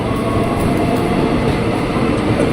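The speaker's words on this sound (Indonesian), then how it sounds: "Nah, kita bakal masuk ke komuter lain tujuan Manggarai." An eight-car KRL commuter train in Indonesia bound for Manggarai rumbles steadily and fairly loudly throughout, a continuous low rolling rail noise with no talk.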